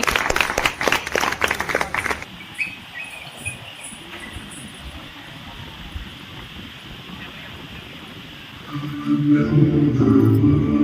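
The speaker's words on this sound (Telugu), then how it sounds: "క్లాప్స్ కొట్టండి" A short burst of audience clapping at a school batch get-together fades into a quieter hall murmur, and a voice and music rise near the end.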